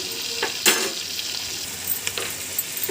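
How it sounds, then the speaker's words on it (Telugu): Ginger garlic paste with turmeric fries in a pan, giving a steady close sizzle with a few light scrapes of a spoon, fairly quiet and without talk. "ఇందులో పచ్చివాసన పోయే వరకు అలా వేయించుకోండి"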